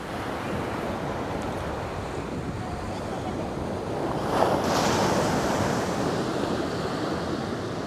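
Sea waves roll onto the shore at Aazhimala beach in Kerala, a continuous broad wash of surf with wind buffeting the microphone and a slightly stronger surge midway.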